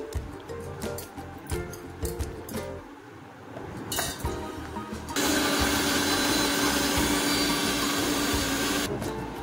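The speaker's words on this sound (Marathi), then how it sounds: "तर हे आता आपण मिक्सरला बारीक करून घेऊया।" A mixer grinder grinds coconut, green chillies and ginger into chutney, starting abruptly midway with a loud, steady whir that runs on without pause after a few quiet kitchen clinks and knocks.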